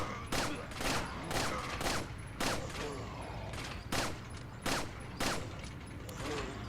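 Video game gunfire shooting at enemies through turning cogs, a series of sharp, evenly spaced shots roughly every half second over a steady mechanical grinding background.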